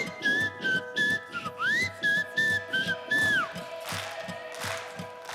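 A person whistles a short tune with gliding notes, heard clearly over rhythmic music on a talent show stage.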